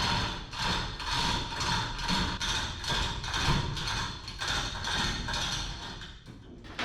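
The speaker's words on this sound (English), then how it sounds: "if you want to get in shape, get you a chain hoist" Chain hoist lifting the cab off the chassis of a 1963 Loadstar truck, giving a rapid rhythmic ratcheting clatter of pawl and chain in regular pulls, close and fairly loud, with no talk.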